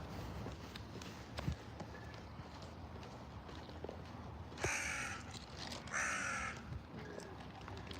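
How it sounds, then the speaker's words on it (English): Several crows caw loudly overhead on a Warsaw city street on a fine evening, two harsh bursts standing out over steady street ambience and distant traffic. "Loud birds."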